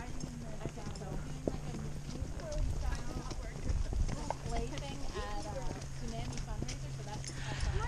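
Horses walk up a steep hill on a trail ride, their hooves clip-clopping in a steady, close, uneven rhythm while riders talk over them throughout.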